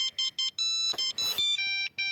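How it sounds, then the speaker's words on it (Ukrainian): A mobile phone SMS notification chiming indoors, a run of short electronic tone bursts in a rapid repeating pattern, clear and fairly quiet, with a brief rustle partway through and no talking. "Це смс-ка прийшла."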